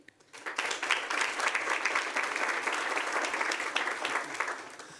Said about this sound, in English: we can applaud for all at the end